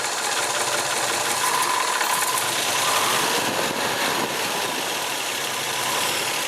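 A 1966 Chevrolet Chevelle SS396 with a four-speed runs steadily at a low idle, its broad engine hum close and continuous with no talk over it.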